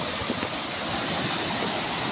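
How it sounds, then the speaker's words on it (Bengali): Water roars through a sluice gate on the Kumar river, a loud continuous rushing torrent with deep churning underneath and no break or talk. "পানির গর্জনটা শুনেছেন?"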